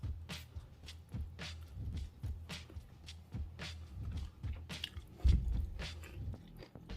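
A stray cat eats food at night outside a home. Soft, repeated chewing and crunching bites come at an uneven pace, faint and close, with no voices.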